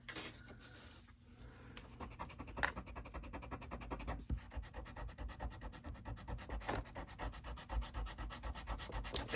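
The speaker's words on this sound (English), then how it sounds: "Got my Tombow Mono eraser." A Tombow Mono eraser rubs back and forth on paper to lift ink splotches on a handmade birthday card, giving a steady, close scratchy scrubbing with quick repeated strokes throughout.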